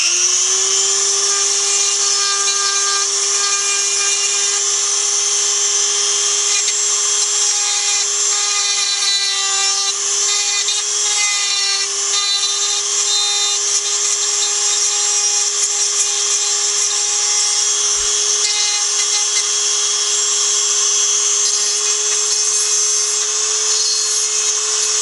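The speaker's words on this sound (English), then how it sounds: "Now I'm going to switch to a smaller bit because there's slightly tighter areas that I want to sand away." A Dremel 300 rotary tool sands with a small cone-shaped bit, producing a loud, constant high-pitched whine that holds steady for the whole stretch.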